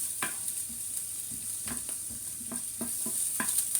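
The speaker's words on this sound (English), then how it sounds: "large onion now until it's soft. Got to get it coated in the oil." A large onion frying in oil in a pan, a soft steady sizzle with scattered stirring scrapes and clicks, close by and fairly quiet, with no talking.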